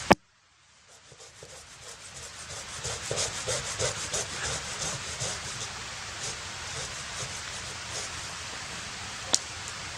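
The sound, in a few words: sawing or sanding wood, producing sawdust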